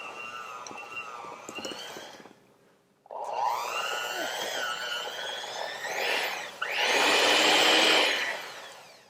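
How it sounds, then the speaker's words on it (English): An electric hand mixer whirs its beaters through a peanut butter bar mixture, a steady close motor drone that cuts out briefly and then returns louder with a final extra whir. "I just did a little extra whir to get everything off of my beaters"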